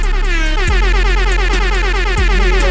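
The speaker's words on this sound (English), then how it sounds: "Air horns." A loud, blaring air horn sounds in repeated bursts over a pounding beat, layered and brassy with sharp rhythmic blasts.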